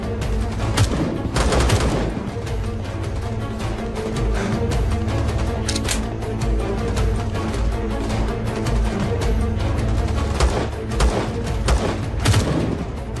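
Sustained gunfire in a war drama, loud, dense bursts of automatic fire mixed with heavy thuds and booms continuing throughout without pause.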